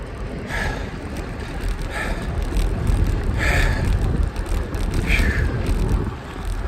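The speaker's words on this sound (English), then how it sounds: "And I got wind in my face at around 20 knots" Strong wind gusting at around 20 knots roars steadily across the microphone, a broad low rumble with brief whooshing surges, loud and close with no one talking.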